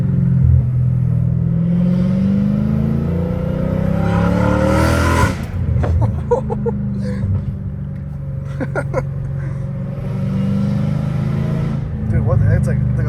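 Lifted trucks and cars revving engines on a neighborhood street, a deep rumbling roar with a rising rev that peaks and cuts, followed by idling and intermittent talk nearby.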